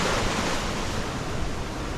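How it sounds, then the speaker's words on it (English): Ocean surf washes on a Pacific atoll, Nukuoro, and a sea breeze blows steadily over it. The noise is broad and continuous, with no voices. "There's the ocean out there."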